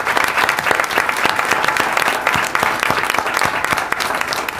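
Audience at a school board meeting giving a round of applause, loud, close, steady clapping from many hands throughout.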